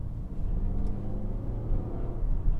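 A Hyundai Grandeur GN7 drives in sport mode, its low engine and road rumble steady and fairly quiet from inside the cabin, with no talking.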